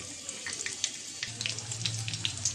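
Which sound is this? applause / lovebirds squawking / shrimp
shrimp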